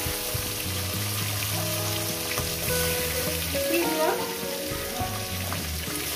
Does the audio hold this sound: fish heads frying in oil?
yes